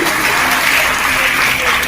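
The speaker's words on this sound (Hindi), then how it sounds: "कृपया जोरदार तालियों से उनका अभिनंदन कीजिए" Loud, dense applause fills a hall as a guest, Chaudhary Hari Singh Saini, is welcomed at an Arya Samaj gathering, a steady wash of many hands clapping without pause.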